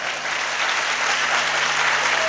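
Steady audience applause at a religious sermon gathering in a Jain monk's pitchika-change ceremony, continuous dense clapping filling the space without pause.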